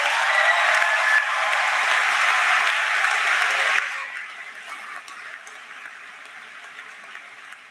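Audience applause for the band at a high school graduation ceremony, a dense crowd clapping loudly for about four seconds before thinning to scattered claps that fade out.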